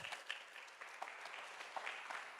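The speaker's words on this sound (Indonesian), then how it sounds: "Berikan sorak-sorai bagi Tuhan Yesus" Congregation clapping and cheering for Jesus during a sermon, faint and distant, with scattered sharp claps and light crowd noise running through the moment.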